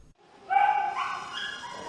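A dog at an animal shelter gives a drawn-out, whining bark or howl, one sustained cry that starts abruptly and tails off, fairly close and alone with no talk.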